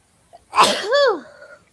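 A single sharp human sneeze bursts out close to the microphone, a quick intake followed by a loud voiced 'choo', then silence.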